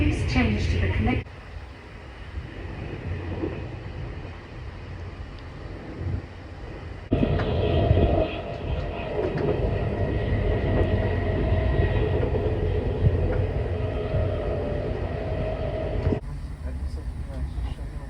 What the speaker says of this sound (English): Here's the train. It's not as nice, but it's pretty long.